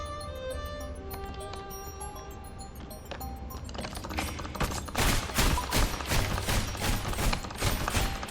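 Semi-automatic gunfire from the video game Blackout crackles in a rapid cluster of sharp shots after a quieter stretch of humming game ambience and tones, fairly loud with no speech.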